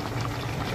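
Braised mackerel with radish simmering in a pot on a home gas stove, a dense, steady bubbling and sputtering close by with no talk.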